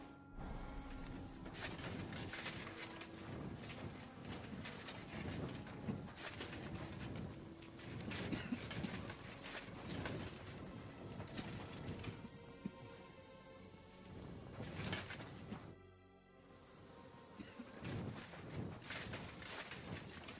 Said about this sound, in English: I hear horses, but I don't see horses.